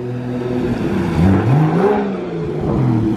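A single-turbo BMW 335i runs laps at Sebring, its engine note rising and falling through several revving sweeps at moderate distance, with no talking.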